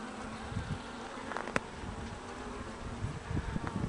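A dense, steady hum of Carniolan honeybees swarming over a frame lifted from an opened hive, close and continuous with a few louder passes.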